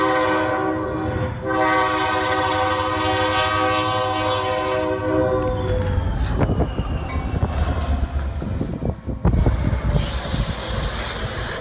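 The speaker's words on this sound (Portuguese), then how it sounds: "Em apenas alguns segundos, o trem chegou ao cruzamento e atingiu o veículo" A train approaching a level crossing sounds its horn in long sustained tones, then strikes a vehicle with a burst of crashing, scraping impacts while the rail noise rumbles on; loud and close, no voices.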